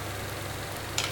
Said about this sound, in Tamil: போட்டுட்டு அதையும் சேர்த்து கிளறிக்கோங்க